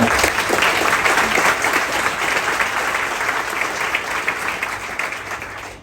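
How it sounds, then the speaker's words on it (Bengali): A crowd at a business gathering claps loudly for a leader, dense sustained applause that fades slightly toward the end, with faint voices underneath. "সর্বোচ্চ হাততালি আমার অফলাইন লিডারের জন্য"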